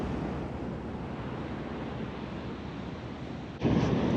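Broad, steady rush of river water flowing at a 4WD crossing on a summertime bush track, loud and continuous, with wind buffeting the microphone and a louder surge near the end.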